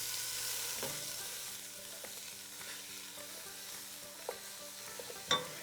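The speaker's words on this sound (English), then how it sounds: "we're gonna go ahead and add our ground beef" Ground beef sizzles and browns in a pan, a steady frying hiss broken by a few scraping stirs and clicks of the utensil, with no talking.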